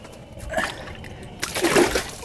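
Close splashing and sloshing of water as a lake trout is let go back through a hole in the ice while jigging on Cold Lake, in two bursts, the second louder and spraying.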